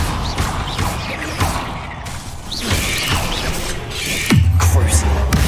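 Depulso spell cast in Hogwarts Legacy: a whooshing magical blast with mechanical clanks and a crashing impact, then a deep booming thud near the end, heard amid game voices and background clatter.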